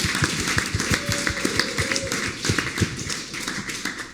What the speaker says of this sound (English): Can we have another round of applause for our two speakers?